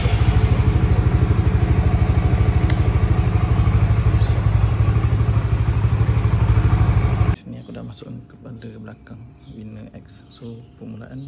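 Honda RS-X motorcycle engine running loud and close with a steady low throb for about seven seconds, then cutting off, after which someone talks.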